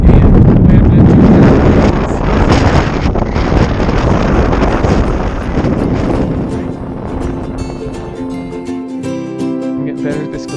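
Cold wind buffets the microphone high on a mountain near Mount St. Helens or Adams, a loud, continuous roaring rush that slowly eases, with a voice talking underneath toward the end.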